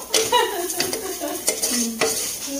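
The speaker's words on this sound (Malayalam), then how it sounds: "നന്നായിട്ടൊന്ന് ഇളക്കി കൊടുക്കാം" A spoon stirring masala in a cooking pan, with quick scraping and clinking strokes against the metal over a soft sizzle, close and fairly loud.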